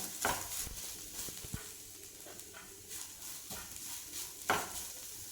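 Chicken spring roll filling stirred in a pan, a soft low sizzle with irregular scraping and clacking of a spoon against the pan, close and fairly quiet.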